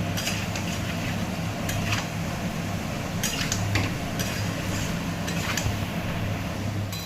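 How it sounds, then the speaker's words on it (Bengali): Spice masala being stir-fried in a pan for jackfruit and prawn curry, a continuous close rattle of a spatula scraping and clinking against the pan over a steady hum, with sharper scrapes at intervals and no talk. "আমি একটুখানি ভালো করে কষিয়ে নিই"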